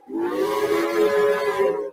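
A video-game steam locomotive whistle blows in one sustained, harmonic-rich tone for about two seconds, loud and steady, with a faint hiss underneath.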